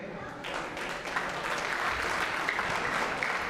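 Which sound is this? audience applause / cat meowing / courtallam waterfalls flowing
audience applause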